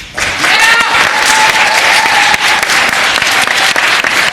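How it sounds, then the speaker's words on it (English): Sustained applause from a room full of people in a state House of Delegates chamber, dense steady clapping throughout with a faint tone ringing beneath it. "I ask that the members of this body recognize and applaud Jacob Dean and Evelyn Johnson"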